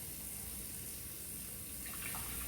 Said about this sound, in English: So I just put in my first cup of water